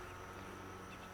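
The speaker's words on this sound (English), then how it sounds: "most of the forager bees are coming back here as well" Forager bees return to a swarm hive in the evening, making a steady, faint, continuous buzzing hum with no pauses.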